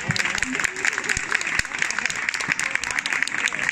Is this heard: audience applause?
yes